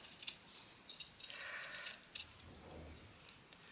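Scissors cut out a small scrap-fabric embellishment in a quiet series of close snips and crisp blade clicks, spaced irregularly, with soft rustling of fabric between cuts.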